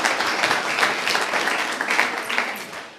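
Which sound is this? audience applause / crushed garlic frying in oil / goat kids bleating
audience applause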